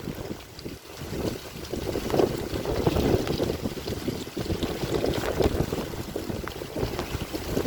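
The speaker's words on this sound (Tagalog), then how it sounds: "Ang lakas kasi ng hangin." Steady, heavy wind roar buffets the microphone throughout, with a constant low rumble and no voices.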